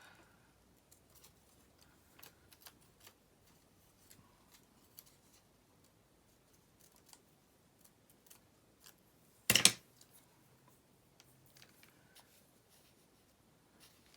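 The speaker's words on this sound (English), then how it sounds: "I'm going to cut it off about there and just see how these work" Scissors cut magazine paper for a mixed media collage, giving soft scattered snips and paper rustles close by, with one louder crinkling burst of handled paper near the middle and no talking.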